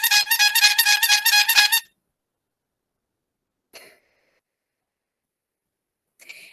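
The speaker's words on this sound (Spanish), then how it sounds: "típico sonido de una corneta o bocina de bicicleta" A short bicycle horn blast, a rapid run of bright squeaky honks lasting under two seconds, followed by silence and two faint brief echoes of the horn.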